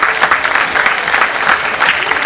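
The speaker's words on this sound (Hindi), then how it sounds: "तालियां बजाइए डॉक्टर साहब के लिए भी।" Dense, steady applause from an audience at an artists' gathering in Uttar Pradesh, honoring a senior performer; the clapping stays loud and continuous from start to finish with no pauses.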